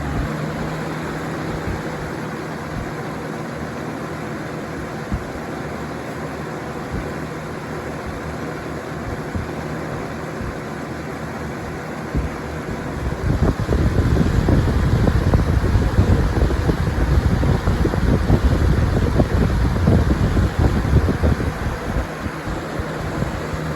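Lakewood Rain Guard 225RG box fan from 2003 running with a steady airy whoosh, growing noticeably louder and rougher partway through as it is switched up to high speed.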